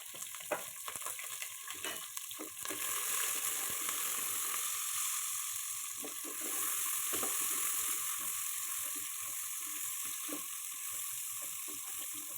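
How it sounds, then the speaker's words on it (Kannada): Sliced onions sizzling with curry leaves in hot oil in a pan for a fenugreek and dill leaf pulao, a steady close hiss broken by frequent scraping taps of a stirring spoon. "ನಂತರ ಇದಕ್ಕೆ ಈರುಳ್ಳಿನ ಸೇರಿಸ್ಕೊಂಡು ಫ್ರೈ ಮಾಡ್ಕೊಳ್ಬೇಕಾಗುತ್ತೆ"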